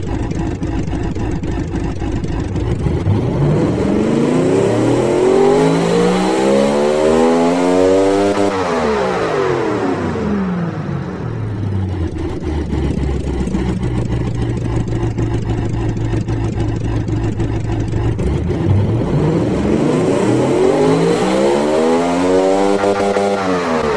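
A Ferrari Tipo 056 Formula 1 engine simulated in the Automation car tycoon game, loud and close, repeatedly revving up and falling back with rising and falling harmonic whine over a continuous idle.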